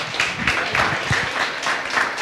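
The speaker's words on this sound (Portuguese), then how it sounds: "Dá uma salva de palmas para Jesus na vida dele." Congregation applause during a church service, a brief, fairly steady round of clapping at moderate volume with a faint murmur of voices beneath.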